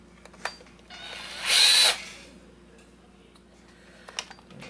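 A small power screwdriver whirs briefly while backing out a security screw on an old hair dryer, one short burst amid faint clicks and handling taps.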